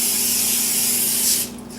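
A continuous close hiss of extra virgin olive oil spray coating salmon and asparagus, steady for over a second before it cuts off, with no talk.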